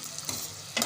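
Onions sizzle in half a cup of hot oil as they brown, a brief bright crackle that swells at the start and again at the end, close up with no talking.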